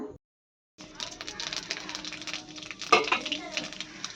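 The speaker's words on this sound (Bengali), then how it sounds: "পনিরটা একটু কেটে দে পনিরটা ভাজা করে নেবো" Paneer pieces frying in a pan crackle and sizzle after a short silence, with soft scraping and clinking from stirring and a sharper clatter partway through; speech is faintly present.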